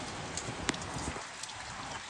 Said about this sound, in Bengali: এত জোর বৃষ্টি দিচ্ছে, মানে কোন রকম বৃষ্টি কমার নামই নেই